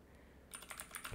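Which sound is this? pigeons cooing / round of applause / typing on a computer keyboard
typing on a computer keyboard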